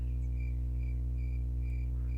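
The cricket pet in the game Super Auto Pets chirps in short, evenly spaced pulses, about twice a second, over a steady low droning background; no talking.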